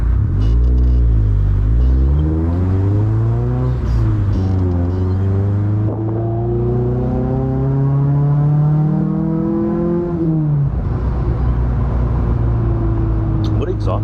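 A car engine fitted with headers revs hard through a loud exhaust at a Texas cars-and-coffee show, pitch climbing and falling in long sweeps, close and dominant.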